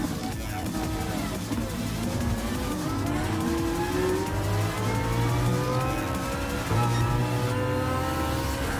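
A BMW M3 GT race car in Gran Turismo Sport at full speed in sixth gear, its engine droning loud and steady with rising, climbing pitch and a brief dip before pulling again.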